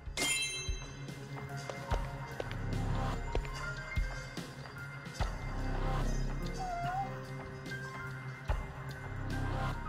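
A cat in the video game Judgment on PS5 gives a brief, faint meow amid ambient game music and footstep-like taps during an investigation scene.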